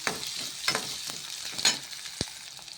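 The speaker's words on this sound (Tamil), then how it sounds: "நல்லா வதக்கிட்டுக்கோங்க நல்லா வதங்கட்டும்" Vegetables being sautéed in a pan for a Tamil raw mango dal masiyal, a steady close sizzle with several sharp stirring scrapes and clinks, no talk.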